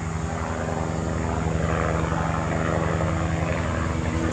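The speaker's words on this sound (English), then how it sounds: "That was the police helicopter." An Oakland County Sheriff police helicopter passes overhead, its loud, steady engine and rotor drone filling the whole stretch with no talk.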